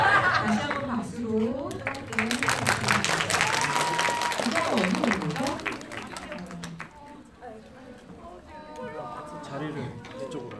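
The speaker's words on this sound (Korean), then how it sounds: "다시 한번 박수로" An audience applauds a band during a live-streamed concert event with clapping, cheers and some laughter. The applause is loud at first and fades over several seconds while people talk over it.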